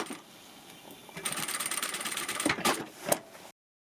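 Home sewing machine stitching along bias tape on a travel vanity bag, a steady mechanical whir that runs for about two seconds, then a few separate louder thumps and clicks before it stops.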